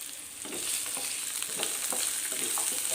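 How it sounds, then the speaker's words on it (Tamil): Small pieces of coconut and garlic frying in oil, a constant bright sizzle close up with soft stirring taps of a spoon in the pan, no speech. "எண்ணெயிலேயே நல்லா வதங்கிட்டுங்க"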